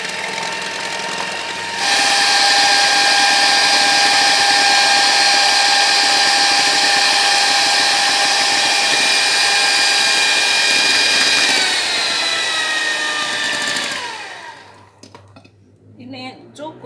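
An electric mixer runs at low speed while beating egg roll batter, giving a loud, steady motor whine that holds for about twelve seconds, then slows and winds down to a stop, followed by faint clatter.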